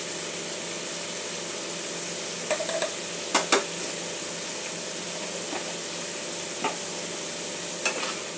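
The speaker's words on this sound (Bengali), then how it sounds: "মশলাটা 2-1 মিনিট একটু ভালো করে কষিয়ে নেব।" Spice masala with a little water and chili powder cooking in a pan for tilapia curry: a steady, even sizzle throughout, with a few sharp clicks and scrapes of stirring now and then.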